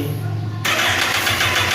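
A motorcycle fitted with an immobilizer key has its electric starter engaged, a sudden loud, steady whirring grind that breaks in over a low idle hum and runs on at an even pitch.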